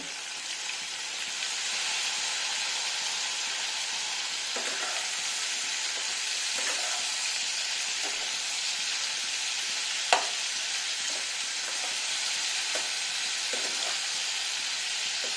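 Ridge gourd sizzles and fries steadily in hot oil, a dense, constant hiss with intermittent scrapes and taps of a spoon stirring through the pan, including one sharp clink near the end.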